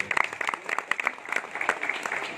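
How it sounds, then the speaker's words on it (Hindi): Audience applause at a public event honouring a member of parliament, a moderate crowd clapping in uneven bursts of sharp, distinct claps, fairly close and continuous throughout. "जोरदार उनका तालियों से मित्रों अभिनंदन करें।"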